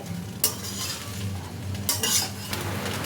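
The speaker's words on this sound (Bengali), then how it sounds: "কন্টিনিউয়াস নাড়তে হবে। এইভাবে নাড়াটাই কিন্তু আসল।" Mixed fried rice is stirred continuously in a pan with a utensil, giving repeated scraping strikes and bursts over a soft background sizzle, close and clear with no talking.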